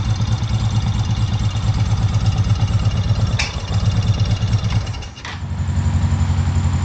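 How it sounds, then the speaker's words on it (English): A Honda PC800 motorcycle engine runs steadily under its own power, a loud, even idle with a low rhythmic pulse that briefly dips and stumbles near the end before settling again. "got the bike running under its own power"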